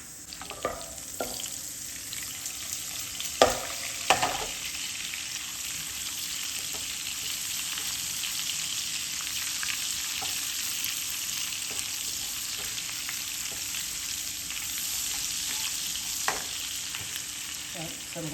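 Two tablespoons of oil with garlic butter sizzle steadily in a pan for lentil dal, a continuous close frying hiss with occasional clinks and stirring knocks.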